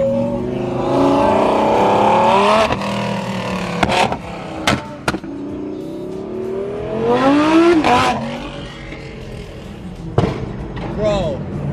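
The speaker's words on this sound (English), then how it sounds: "That has to be the loudest V10 Lambo I've ever heard." A loud twin-turbo Lamborghini V10 revs repeatedly on Los Angeles streets, with rising and falling engine sweeps and sharp pops or backfires between pulls, close and dominant while people talk over it.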